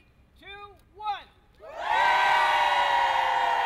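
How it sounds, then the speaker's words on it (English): A crowd cheers and whoops loudly at a key handover outside a Windsor newspaper building, after two brief rising shouts; the cheering swells into a sustained roar that fills the rest of the moment. "The crowd grew loud"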